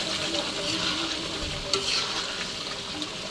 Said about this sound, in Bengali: আবার ঢাকাটা আগলা করে ভালো করে নেড়ে দেবো